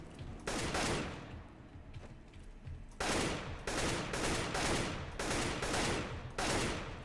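Rifle fire in CS:GO comes in short repeated bursts, loud and close, with brief pauses between each volley and several bursts spread across the stretch.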